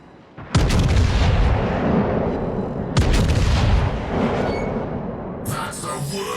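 Heavy naval cannon salvos in World of Warships, with two loud booming volleys about two and a half seconds apart, each rolling off into a long rumbling decay before a lighter rattle at the end.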